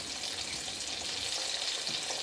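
Steady, loud sizzling fills the clip, a dense crackling hiss of bananas frying hard in a very hot pan, with no voices.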